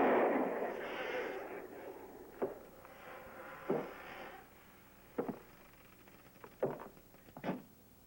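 Five sharp, separated gunshots ring out in a western film, spaced unevenly over a faint noisy background that is louder at the start, with each shot short and fairly prominent.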